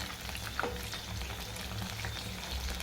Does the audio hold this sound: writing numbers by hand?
no